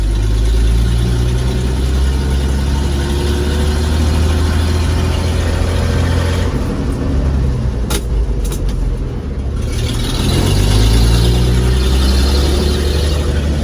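A 1948 International KB8 truck's large engine idles steadily with a deep, low rumble, continuous and close throughout, with a brief dip in the middle.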